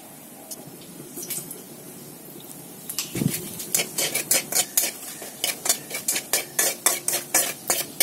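Bay leaf, dried red chilli and whole garam masala (cinnamon, cloves, cardamom) sizzle in a kadai, first a soft crackle, then a rhythmic run of loud, close stirring scrapes against the metal.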